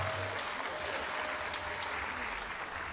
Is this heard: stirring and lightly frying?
no